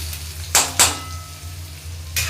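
Chopped onion frying in a pan for upma, a soft steady sizzle punctuated by two quick spatula scrapes close together and another near the end, with no talking.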